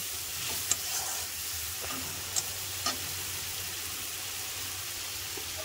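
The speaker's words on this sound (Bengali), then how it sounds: "এবার এগুলোকেও একটু আমি মশলার সাথে ভালো করে কষে নেব" Fried prawns being stirred into spice masala in a pan, an even, hissing sizzle throughout with a few sharp spatula taps against the pan, no voices.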